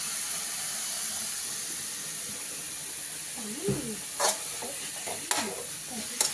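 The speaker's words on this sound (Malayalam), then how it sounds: "ഇനി നമ്മൾ അതിലേക്ക് കുറച്ച് വെളിച്ചെണ്ണ കൂടി ഒന്ന് ഒഴിച്ച് കൊടുക്കാണ്" Food sizzles and fries in coconut oil in a pan, with steady crackling throughout and a few distinct scraping stirs of a spoon toward the end, close and fairly loud.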